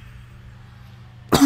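A single sharp cough bursts out close to the microphone at the very end, after a stretch of quiet background hum.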